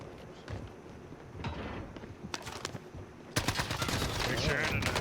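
Gunfire from a shooter video game played on PC: bursts of rapid shots break in around the middle and then turn into loud, sustained automatic fire near the end, with a busy game soundscape underneath.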